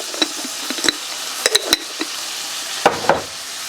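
Home canned chicken browning in a hot pan: a soft continuous sizzle broken by several sharp scrapes and clacks of a utensil stirring, close and fairly loud.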